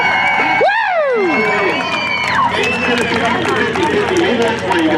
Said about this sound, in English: They're still here cheering you on. Let them hear, folks.